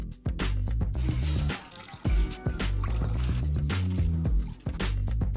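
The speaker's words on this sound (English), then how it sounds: "keep rinsing and draining out the water until all the starch is out and the water runs clear" Tap water splashes and drains as rice is rinsed in a sink, with irregular pouring, dripping and squishing sounds close up.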